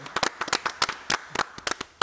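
Studio applause for athletes: a small group claps in brisk, uneven bursts, close and dry, with no talking.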